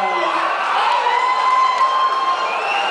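Concert crowd at an open-air beach venue cheering and whooping loudly and continuously, with high excited voices mixed in.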